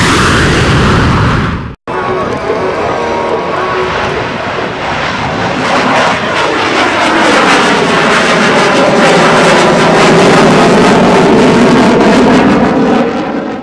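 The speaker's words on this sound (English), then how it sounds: "Here I am with Captain Erick O'Connor inside the CF-18" The engines of a CF-18 Hornet fighter jet roar loudly and steadily, briefly cutting out near the start before building into a sustained, rising whine.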